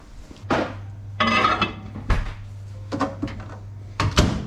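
Butter in a bowl being set into a microwave in a home kitchen while baking a Christmas cake: several sharp knocks and clatters of a door and dish at close range, with a steady low hum running beneath.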